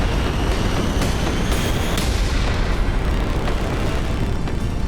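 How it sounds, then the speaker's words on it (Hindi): A nuclear bomb detonation produces a loud, sustained roaring rumble with a few sharp cracks near the start. It stays dense and heavy throughout, with no voices. "न्यूक्लियर बम जब धरती पर गिरता है तो धमाके के साथ धुएं का गुबार उठता है"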